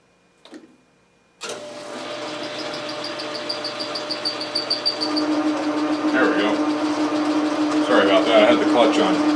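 A metal lathe takes a coarse cut while turning a telescope declination shaft: after a brief knock and silence, the machine starts up and runs with a steady hum, rhythmic ticking and rising cutting noise.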